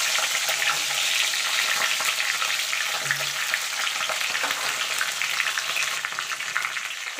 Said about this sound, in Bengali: এবার সিমটাকে একটু নাড়াচাড়া করে সিমটাকে একটুখানি গ্যাসটা লো টু মিডিয়ামে রেখে সিমটাকে একটু ভাজা ভাজা করে নেব।